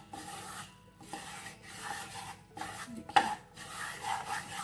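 Flour being stirred in a pan over a low flame for béchamel sauce, giving repeated scraping and rubbing strokes of a spoon against the pan in an uneven rhythm, close and fairly quiet.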